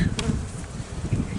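Bees swarming at a beehive, a close continuous buzzing hum with a brief sharper rise near the start.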